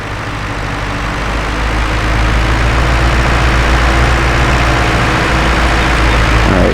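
A tractor on a dairy farm in a farming video game runs with a steady, loud, low diesel rumble that builds slightly and holds constant, with no talk over it.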